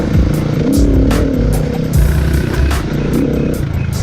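A dirt bike engine revs hard while riding off-road through dirt and mud puddles, snarling loudly and close with rising and falling throttle surges.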